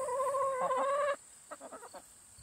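Chickens in a pasture pen full of grasshoppers give a loud, drawn-out squawk up close, followed by a few soft, short clucks.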